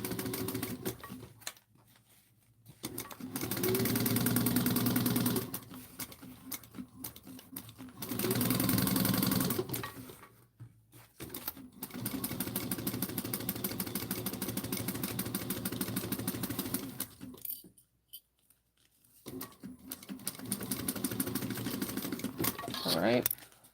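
A sewing machine top stitching a bowler bag runs in long, steady whirring bursts separated by brief stops, with someone talking at times.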